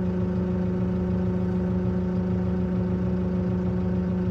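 Arbos 5130 tractor engine idling steadily, heard from inside the closed cab: a constant low droning hum with strong tonal layers, even and unbroken throughout, no voices.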